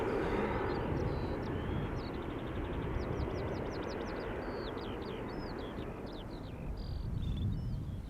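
A KLM Embraer 190 departs Schiphol under a low cloud ceiling, its steady, loud broadband jet roar filling the scene continuously with a high whine on top and no talk.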